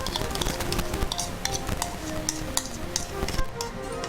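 A spoon stirs pumpkin sauce with vegetables in a home kitchen pan, making repeated close scraping and tapping strokes with a faint sizzle. A voice is heard now and then.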